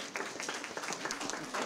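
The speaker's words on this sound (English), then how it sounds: "Let's give our panelists a round of applause" A round of applause for panelists at a district leadership meeting, many hands clapping in a brisk, uneven patter at moderate volume with no voices over it.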